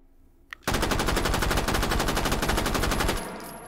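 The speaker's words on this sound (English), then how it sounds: "Let's do our recoil test. 30 rounds in 9x19 full auto." A Beretta Model 38 submachine gun fires 30 rounds of 9x19 full auto in the H3VR video game, one loud fast unbroken burst after a faint click, then a short ringing tail.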